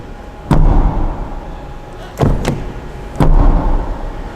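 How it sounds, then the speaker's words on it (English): The back door of a 2025 Lynk & Co 01 car is shut several times: three solid, close thuds, each with a short low rumble afterward and quieter background noise between them. "when you close the back door, it has this prominent sound"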